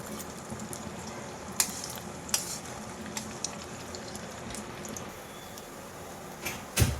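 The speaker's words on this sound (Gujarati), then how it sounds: "એને આપણે ફ્રાય કરી લઈશું. તેલ આવી ગયું છે." Semolina (suji) donuts fry in hot oil over a slow flame: a quiet, even sizzling hiss with occasional sharp pops and crackles, close by and without speech.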